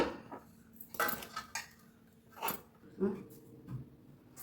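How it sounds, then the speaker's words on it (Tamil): Hot rice is served from a steel pot, bringing a handful of light metallic clinks and scrapes of a serving spoon against the pot and plate, close by, with soft talking in the background. "இப்போ சுட சுட சோறு போட்டுக்கலாம்"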